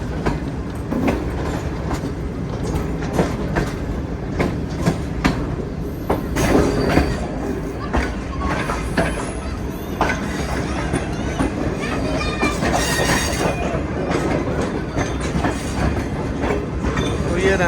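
A train of heavily shaking CNR coaches approaches Rehmani Nagar railway station, heard from on board with steady clickety-clack of wheels on rail, rattling carriages and occasional wheel squeal, loud and continuous.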